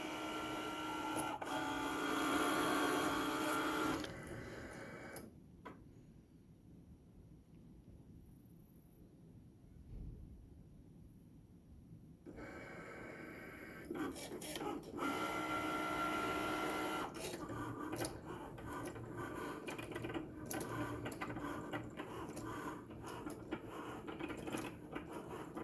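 A Cricut cutting machine cuts a design for a shirt, giving a close, steady mechanical whirring and buzzing with brief clicks, a quieter pause midway, then more shuttling motor noise.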